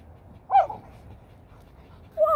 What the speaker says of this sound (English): That was a weird bark.